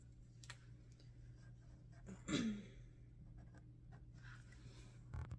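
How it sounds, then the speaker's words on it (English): A pen scratches the date and time onto a short piece of tape serving as a label on IV tubing. One brief, quiet burst of writing plays over a steady low room hum. "I would write the date and time"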